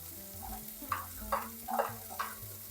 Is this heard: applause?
no